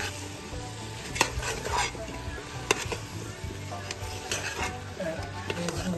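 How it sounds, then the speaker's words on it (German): Macabo ingredients are stirred and mixed in a sizzling pot, a constant frying hiss under repeated close scraping strokes and occasional sharp clinks of a spoon on the metal. "Wir mixen alles jetzt, alles zusammen"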